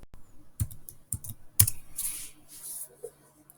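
A computer keyboard at a terminal password prompt, with a short, irregular run of close key clicks and a few sharper presses over a few seconds.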